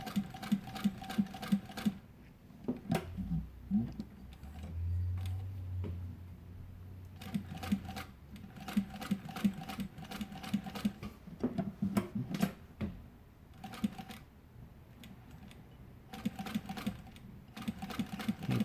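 An industrial sewing machine with a servo motor, stitching with a size 18 leather needle at full pedal speed, gives rapid mechanical clatter in repeated bursts with short pauses between runs, close and moderately loud, with no talk.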